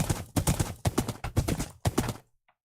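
Saddled horse in the Minecraft video game, hooves clip-clopping in a steady series of close, distinct footfalls before stopping into near silence.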